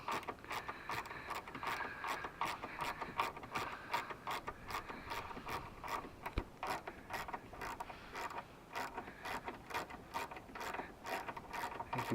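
A T40 Torx bit on a ratchet loosens a hard top screw on a 2016 Jeep Wrangler Unlimited Rubicon, producing a fast, steady run of rapid clicks, fairly faint and close, with no talk.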